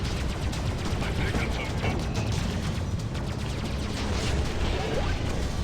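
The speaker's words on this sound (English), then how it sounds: "Just don't accidentally shoot the wrong people." Space combat in the video game Freelancer fills the scene with dense, continuous gunfire and crashing impacts, loud and close, with a voice partly heard over the din.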